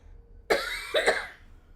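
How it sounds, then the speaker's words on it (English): A short burst of coughing, a sharp cough at the start followed by two quicker hacks close together, heard nearby over a quiet background. "Oh, not the coughing fits."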